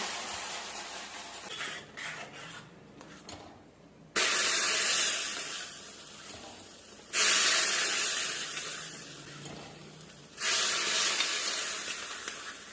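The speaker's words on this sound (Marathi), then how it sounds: "साखर आहे कॅरेमलाइज झालेला आहे। हे आपल्याला टाकायचं आहे इथे।" Caramelized sugar poured into a hot pot of vermicelli kheer, giving loud bursts of hissing sizzle that start abruptly and fade, repeated three times, close up with no talking.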